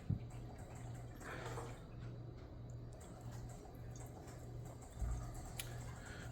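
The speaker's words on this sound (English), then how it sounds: "So I'm going to pour this water into the reservoir so it'll hopefully flush it back out." Water poured into the reservoir of a GE Opal nugget ice machine, heard as a faint, soft trickle and splash over a steady low machine hum, with no talking.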